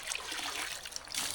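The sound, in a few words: water poured into gold pan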